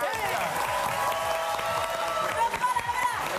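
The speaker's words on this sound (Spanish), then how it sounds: "¡Un aplauso para ellos!" Guests at a live engagement celebration clap for the newly engaged couple, a steady patter of applause over lingering music tones, with voices mixed in toward the end.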